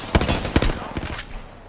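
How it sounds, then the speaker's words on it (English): Rapid bursts of gunfire from the Apex Legends video game, several sharp shots clustered in the first second and a few more trailing off, close and loud with no talking. "Shoot Wraith."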